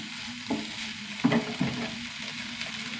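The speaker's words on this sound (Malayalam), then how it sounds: "നമ്മുടെ വഴുതിരിങ്ങ മെഴുക്കുവരട്ടിക്ക് റെഡി ആയിട്ടാണ്. നല്ല ഫ്രൈ ആയി വന്നു." Brinjal slices fry in hot oil for a Kerala mezhukkupuratti, a steady soft sizzle broken by a few spatula scrapes and clacks against the pan, close up and with no talking.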